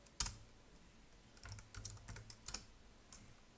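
Quiet keystrokes on a computer keyboard while a chmod 770 command is entered, an irregular burst of about a dozen soft clicks, close and faint, with no talking.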